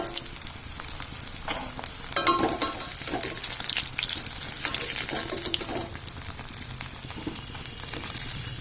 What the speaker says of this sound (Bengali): এবার আমি প্রথমে আলুটা ভেজে নিচ্ছি। আলুটা সেদ্ধ করা, অল্প ভাজলেই হয়ে যাবে।